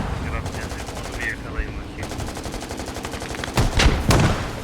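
Rapid bursts of gunfire in the game Squad rattle continuously, with a couple of louder shots near the end and a voice briefly speaking over them.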